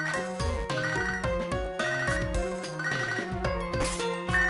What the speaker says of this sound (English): Wait! I got a phone call.